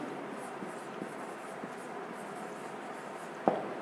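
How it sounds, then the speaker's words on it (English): Pen or marker strokes scratch softly across a classroom board in short, steady bursts, ending with one sharper tap near the end. "Let me write another one."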